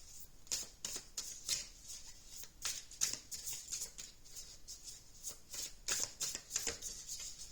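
Tarot cards being shuffled by hand, a run of soft papery riffles and flicks in quick irregular bursts, quiet and close with no voice.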